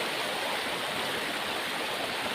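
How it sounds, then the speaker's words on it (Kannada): A stream swollen by heavy rain rushes steadily, a dense continuous hiss of flowing water heard close and alone, with no breaks or voices. "ಇಲ್ಲಿ ನೀರು ಹರಿಯೋ ಸೌಂಡ್ ಕೇಳೋದಕ್ಕೆ ಒಂದು ಮಜಾ ಗುರು"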